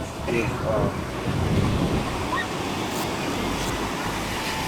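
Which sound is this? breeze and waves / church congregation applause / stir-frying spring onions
breeze and waves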